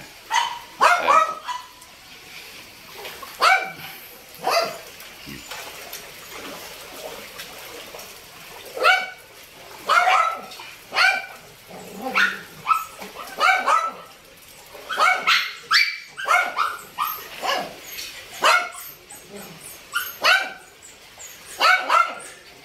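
Dogs bark repeatedly in uneven bursts during a neighborhood flood, several sharp yaps close together and then more after short pauses, loud and near amid faint background noise.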